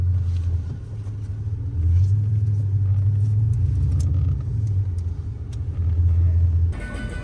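A Chrysler 300C with a 5.7L HEMI V8 rolls slowly onto grass, its deep engine rumbling and swelling with light throttle blips, close and steady, with some faint background noise and no talking.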